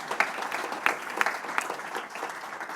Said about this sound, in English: A round of applause for William with that insight.